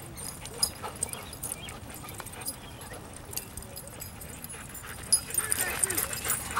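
A dog at a dog park whimpering and giving short yips and barks amid people talking, with scattered outdoor noise and a louder burst near the end.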